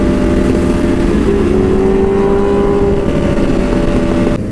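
Superbike engine revving hard during a wheelie, a loud, close, continuous roar with a steady high-revving drone.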